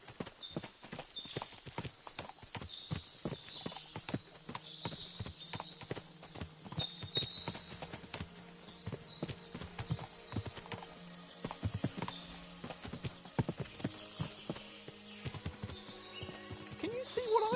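Horses' hooves clip-clop steadily in the video game Kingdom Come Deliverance 2, a dense run of overlapping hoofbeats from several animals with an occasional neigh, lasting throughout at moderate volume.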